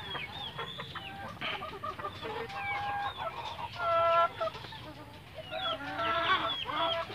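Chickens cluck close by, among them a crossbred black-feathered bird from a backyard flock troubled by feather pecking. Irregular clucks and short calls run through the clip without any talk.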